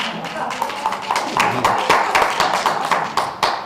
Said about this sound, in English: I don't know whether you're applauding South Bend or in fact Buttigieg